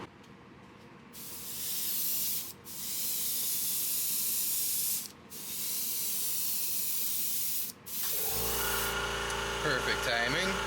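Spray gun coating a fishing bait in pearl white paint, a loud continuous airy hiss in three long passes separated by brief gaps, ending with a rattling clatter.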